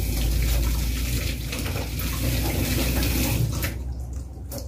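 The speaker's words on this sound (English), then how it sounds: "let me wash my hands" Kitchen tap water pours steadily into a sink during handwashing before bread baking, a loud, continuous splashing rush that fades at the end.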